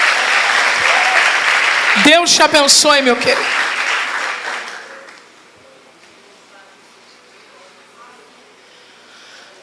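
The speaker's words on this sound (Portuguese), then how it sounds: "A igreja pode aplaudir ao Senhor pela vida do irmão Gilvan." A church congregation applauding loudly alongside a voice speaking over the clapping, then the applause fades away midway and leaves a quiet room.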